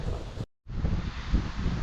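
Outdoor wind buffets the microphone in a steady, loud rumbling roar, cut by a short silent dropout, on a rainy but brightening day with the sun starting to come out.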